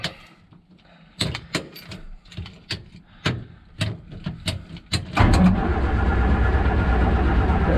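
A Morris Minor engine cranking with several uneven turning bursts, then catching and settling into a loud, steady idle close by.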